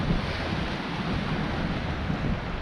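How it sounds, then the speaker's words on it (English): Strong, gusty wind by the sea at a Bristol Channel fishing spot, a dense continuous roar buffeting the microphone with faint surf beneath, no voices. "It's quite windy down here today."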